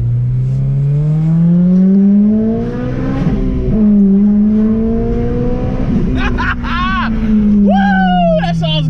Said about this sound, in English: Oh, just a muffler delete, man.